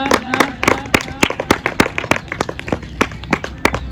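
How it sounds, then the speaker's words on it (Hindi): Audience clapping for a guest speaker at a school Republic Day celebration, sharp individual claps in a loose, uneven rhythm from a modest group nearby, fairly loud with no talking over them. "जोरदार तालियां बजाएं कृष्णा।"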